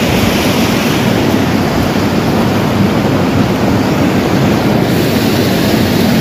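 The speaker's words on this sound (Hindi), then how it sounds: "ये देखिए यहाँ से भागीरथी नदी आगे से आ रही है।" Bhagirathi river flowing near Gangotri in snowy mountain country, a loud, steady roar of rushing water that fills the whole scene without pause, close by, with no talk.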